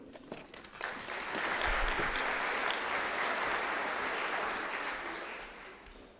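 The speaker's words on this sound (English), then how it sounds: "let's give another round of applause for Dr. Borhard." A crowd applauds steadily for several seconds at a university graduation ceremony, the clapping swelling quickly and then slowly thinning toward the end.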